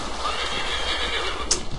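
A horse in Assassin's Creed 3 gives a single loud, shrill whinny over a steady game ambience, with a few faint hoof clops near the end.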